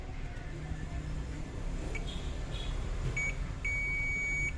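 A multimeter in continuity mode beeps while probing a ceramic capacitor for a short on a Lenovo G40 laptop motherboard, giving short steady tones near the end over a low background hum.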